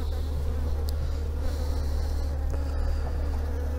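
Honey bees buzz steadily around an open multi-storey beehive while frames holding larvae, honey and pollen are inspected; the dense, continuous hum stays close and even throughout, with no talk.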